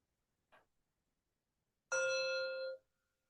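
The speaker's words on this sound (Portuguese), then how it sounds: "Começamos sempre a prática com o toque do sino" A meditation bell is struck once at the start of a practice session, giving a clear ringing tone that sustains for about a second before cutting off, preceded by a faint short sound.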